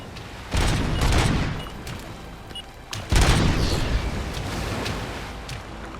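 Sniper rifle fire in the RoboCop: Rogue City video game lands as two heavy booming blasts a couple of seconds apart, each trailing a long rumbling decay over a constant background bed.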